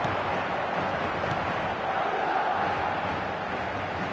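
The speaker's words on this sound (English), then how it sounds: "An intimidating atmosphere in the crowd, a crowd so close to the pitch here in this old-style stadium" Dense, steady crowd roar fills an old-style stadium in a football video game, the close-packed fans producing a constant wash of noise near the pitch with no distinct chants standing out.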